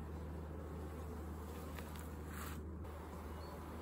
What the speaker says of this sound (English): This is just still a lot of bees.